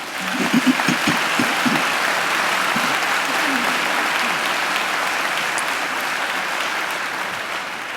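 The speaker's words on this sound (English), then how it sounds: "I think she deserves another great round of applause" An audience at a university graduation ceremony applauds a singer: a broad, sustained roar of many hands clapping in a large hall, steady and fairly loud for the whole stretch, with a few voices briefly audible near the start.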